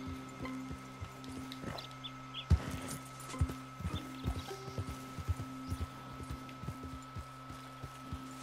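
Horse hooves walking in Red Dead Redemption 2, a steady uneven clip-clop of soft thuds at moderate distance over a faint constant background hum, with no talking.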